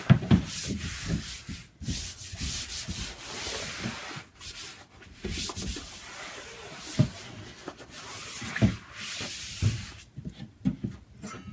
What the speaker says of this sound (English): We're just going to roll this out, kind of working the air out as we go.